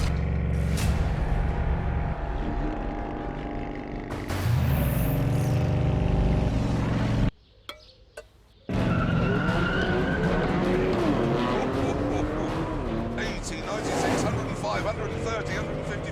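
A Bugatti Chiron with a W16 engine roars through a drag-race run, with loud engine noise, shifting pitch and tire skid sounds. A brief near-silent gap falls partway through, and voices talk over parts of the run.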